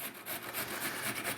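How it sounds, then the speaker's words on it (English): Potatoes being grated by hand for potato pancakes, a quick repeated rasping scrape in steady strokes, close and moderately quiet with no voices. "Okay, so I've almost got these potatoes grated,"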